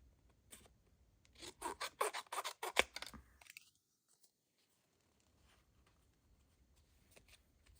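Scissors snipping through 12x12 craft paper, a quick run of crisp close cuts and rustles followed by quieter paper handling, with no talk.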